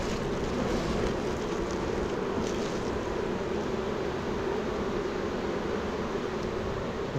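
Honey bees crowd a loaded feeder at an almond pollination site, producing a dense, continuous buzzing hum that fills the clip evenly at close range.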